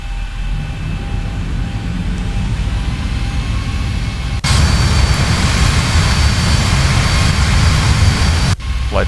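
Simulated Boeing 737 jet engines spool up for takeoff in the X-Plane flight simulator, a loud, steady roar that jumps sharply in power about halfway through and drops briefly near the end, with no voices.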